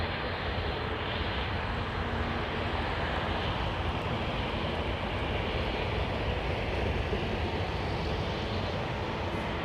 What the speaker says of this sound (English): nice sound from the ATR, yeah